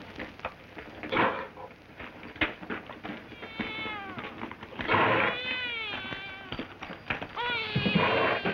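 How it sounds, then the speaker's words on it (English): A cat yowls and screeches in repeated drawn-out wails in a 1950 Western film, loud and close, with knocks and bumps between the cries. "What's all that screeching going on in there? Sounds like a sick cat."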